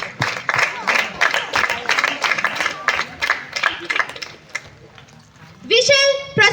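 Cheering and applause ring out across a crowded parliamentary House welcoming a visiting guest, a dense run of loud clapping bursts that thins out before a voice takes over.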